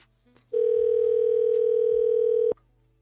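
A telephone ringback tone plays while a call waits to be answered: one loud, steady electronic tone lasting about two seconds, with faint background noise before and after.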